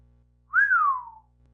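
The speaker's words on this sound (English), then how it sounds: "Hanson whistled." One person whistles a single clear note that rises briefly and then glides down, heard alone against near silence.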